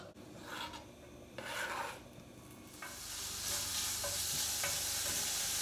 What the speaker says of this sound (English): Okay, so while my bacon is frying